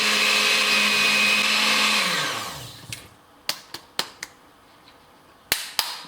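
A blender whirs loudly while blending a peanut butter alternative, then spins down and stops, followed by several sharp knocks and taps.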